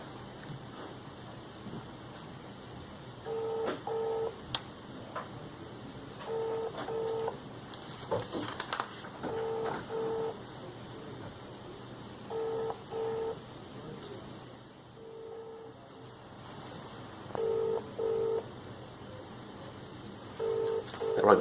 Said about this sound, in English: On the phone to the sorting office.